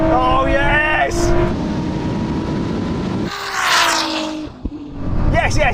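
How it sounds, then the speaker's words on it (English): Ferrari SF90 and 1000HP Nissan GT-R drag racing, loud engine roars with rising whine as the cars accelerate, mixed with a voice talking over the noise. "The Ferrari takes off strong, but the GT-R, it just explodes off the line."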